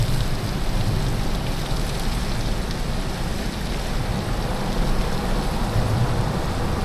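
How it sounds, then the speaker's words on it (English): Heavy rain pours down on the water beside a kayak at a Tennessee dam, a dense, even hiss of countless drops with a low rumbling undertone, steady and close throughout. "It started pouring down rain."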